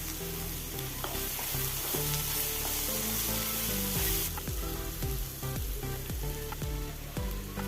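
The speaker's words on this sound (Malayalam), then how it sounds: "ഇനി ആവശ്യത്തിന് ഉള്ള ഉപ്പ് ഇട്ട് കൊടുക്കണം ഇളക്കി കൊടുക്കാം" Vegetable fried rice sizzles steadily in a hot pan, with repeated scraping knocks of a spatula stirring it throughout; loud, close and continuous, no voices.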